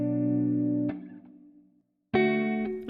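A guitar plays sustained tonal chords through a HitVerb convolution reverb with early reflections, cutting off into a short decaying tail and near silence before another chord rings in strongly, with no speech.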